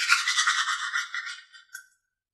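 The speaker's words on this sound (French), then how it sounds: "Il se brosse systématiquement ses dents tous les matins, de manière très précise." Rapid scrubbing of a toothbrush on teeth in a quick rhythmic burst, bright and close, fading out after a couple of seconds.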